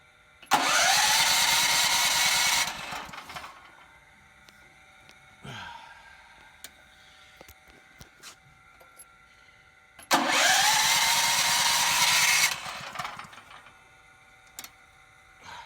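A portable generator on propane, half-choked, is cranked twice, each attempt a loud whirring starter burst of about two seconds, followed by quiet clicks and faint sputters without a sustained run.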